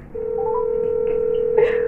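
Telephone dialing tones: a steady tone beeps in a short sequence for under two seconds, clear and close, with no talking over it.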